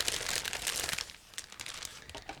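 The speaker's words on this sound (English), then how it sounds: "So it's a resealable plastic bag. It should be quick to open, and that's what I'm doing right now." A resealable plastic bag from a 1/32 model aircraft kit is opened up close, giving soft crinkling and rustling with quick crackly bursts over about two seconds.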